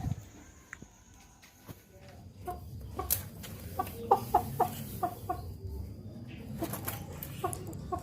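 Chickens sick with a snoring respiratory illness and a cold give short, soft clucks at moderate distance, with a few light footsteps and rustling in the background.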